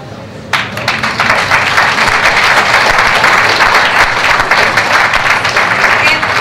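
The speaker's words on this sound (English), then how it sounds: "we can give you rounds of applause" Applause breaks out at an awards gala as winners step up front, starting abruptly and settling into a loud, sustained patter of many hands clapping with no pauses.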